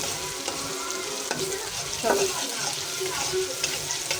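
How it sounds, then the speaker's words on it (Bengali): Garlic and onions frying in a pan, a steady broadband sizzle with occasional stirring scrapes; faint voices may be present in the background. "রসুন আর পেঁয়াজ কষাইতেছি"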